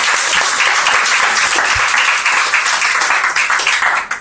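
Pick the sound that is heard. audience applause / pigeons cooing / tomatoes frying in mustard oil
audience applause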